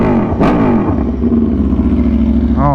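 A 2022 Aprilia RSV4 1100 Factory motorcycle engine runs loud and close, with a deep throbbing idle, a quick sharp rev blip early on and another rising rev at the end.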